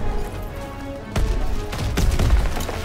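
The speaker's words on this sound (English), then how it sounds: "It's a lot of explosions." Explosions and gunfire in a World War II shooter, Call of Duty: WWII: sharp blasts punch through a rumbling battle backdrop, with a heavy low boom toward the end and no talk over it.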